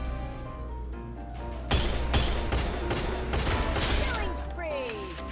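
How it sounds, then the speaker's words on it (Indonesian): Rapid bursts of gunfire in the Free Fire mobile battle royale game, loud sharp volleys cracking in quick succession over a steady background hum, with a sweeping whoosh near the end. "Dia lagi nembakin ke bawah kayaknya."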